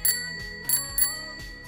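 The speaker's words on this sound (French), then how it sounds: "typiquement une bonne sonnette." A bicycle bell rings in quick bright dings, four strikes in under two seconds, each leaving a shimmering metallic tail, close and clear.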